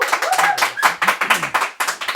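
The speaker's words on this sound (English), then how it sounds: "that round of applause we got there" A studio audience at the Ladbrokes Social Club gives a round of applause, with a lively run of clapping from a small crowd and sharp, uneven claps close by.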